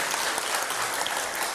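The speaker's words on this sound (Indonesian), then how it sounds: "Tepuk tangan dulu." Audience applause at a talk on healthy ageing, a steady dense wash of clapping that fills the whole moment at moderate loudness with no voices over it.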